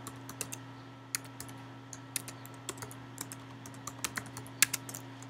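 Keys clack steadily on a computer keyboard as registration details are typed into an online sign-up form for a Builderall account, a quick irregular patter of close, light clicks over a low steady hum.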